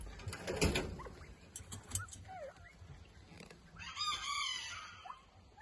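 Chickens cluck and call in short bursts, with a brief crowing-like cry near the end amid faint rustling and background noise.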